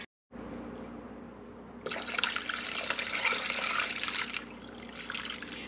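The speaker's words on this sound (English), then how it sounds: "I'm going to continue filling this up until everything is submerged underneath the water." Water from a tap pours into a pot of bones for bone broth, a steady close splashing rush that grows louder and fuller midway before settling, with no speech.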